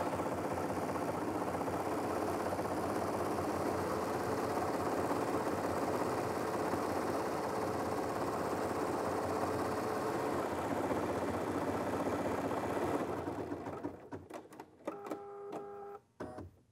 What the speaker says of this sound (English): and we watch the embroidery design stitch out.